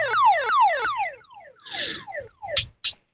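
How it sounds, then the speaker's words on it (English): Activated 121.5 MHz emergency beacon heard over a demonstration radio channel, a repeating downward-sweeping electronic wail, several falling tones in a row followed by bursts of static and two short blips. "I'm going to show off what an activated beacon would sound like on a"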